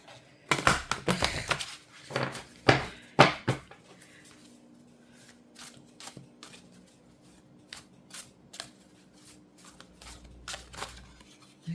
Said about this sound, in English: really going to try to get a shuffle on these.